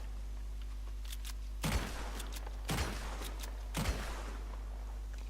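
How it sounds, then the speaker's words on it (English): Three loud, sharp shots from the volcanic pistol in Red Dead Redemption 2, spaced about a second apart, each with a short ringing decay over a steady low hum, with no talking. "Here's the volcanic pistol."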